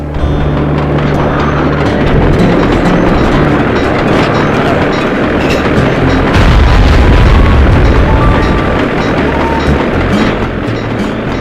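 In the Sly 2: Band of Thieves video game, an explosion blows open a train caboose, giving heavy booming blasts and a long, rolling rumble over continuous train noise, loud and sustained with no speech.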